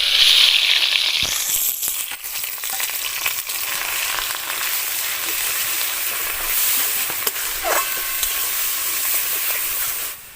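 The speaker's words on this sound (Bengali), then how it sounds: "ফোড়নটা এদিকে ভাজা হয়ে গিয়েছে, তো এর মধ্যে এবার আমি দিয়ে দেবো ঝিঙের খোসা বাটা" Ridge gourd peel paste with peanut and garlic paste frying in a spice tempering with black cumin, a loud continuous hiss and sizzle that swells early and settles into a steady crackle, with occasional stirring knocks.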